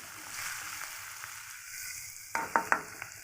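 Onions and green chillies frying in oil in a pan, a soft, steady sizzle that ends in a few sharp clinks of stirring close by.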